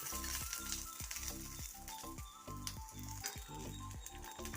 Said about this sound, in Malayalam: അതിൻ്റെ കൂട്ടത്തിൽ ഒരു നാല് കച്ചൽ മുളക് കൂടെ ഇട്ട് കൊടുക്കും അതിനെ ഒന്ന് മൂപ്പിച്ചെടുക്കാം